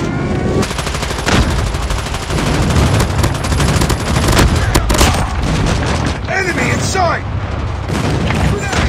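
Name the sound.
airstrike explosions and gunfire in Call of Duty Mobile video game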